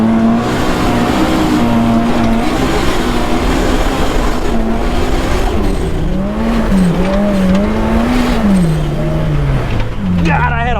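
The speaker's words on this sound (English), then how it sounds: "just throwing this monster of a car around, no problem. And it just goes." Powerful turbocharged car driven hard, engine roaring loud and close with shifting revs throughout, tire squeal rising near the end, and excited voices talking over the noise.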